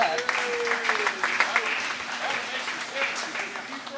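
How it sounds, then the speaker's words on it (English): An audience at a farming talk claps for a student weeds-competition team, a fairly loud patter of applause with uneven peaks that tapers slightly, with some voices mixed in. "So let's get a round of applause for that."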